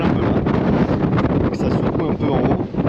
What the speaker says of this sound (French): excusez-moi d'avoir du vent. Des rafales, je sais pas, ça souffle un peu là.